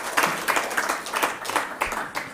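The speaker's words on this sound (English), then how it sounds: "Can we please have a huge round of applause?" An audience at a technical summit gives a round of applause, somewhat distant and moderately quiet, with clapping in uneven surges over the room's ambience.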